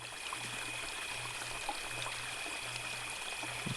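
Video game waterfall flowing as a soft, continuous trickling rush, faint and steady, with a low pulsing hum repeating beneath it and no speech.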